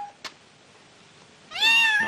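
A cat gives a clear, fairly loud meow that rises and falls, preceded by a faint brief click in an otherwise quiet room, with no talking.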